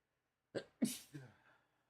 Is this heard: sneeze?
yes